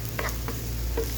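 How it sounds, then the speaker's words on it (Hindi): Mashed potato filling for aloo paratha is stirred in a pan on low heat, giving a few soft, brief scraping strokes over a steady low hum. "आपकी जितने आलू मैश हुए थे मैं इसके अंदर ऐड कर दूँगी। इनको अच्छी तरीके से मिक्स करूँगी मैं।"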